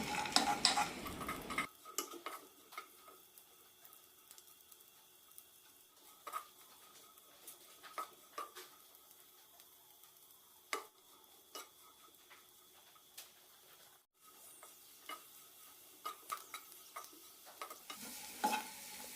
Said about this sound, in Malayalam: പായസത്തിന് വറക്കുന്നത് പോലെ വറുത്തെടുക്കാം